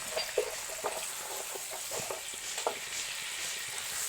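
Pieces of elephant foot yam sizzle in hot oil with salt and turmeric, a soft steady frying hiss broken by small crackles and occasional stirring scrapes, fairly quiet and close.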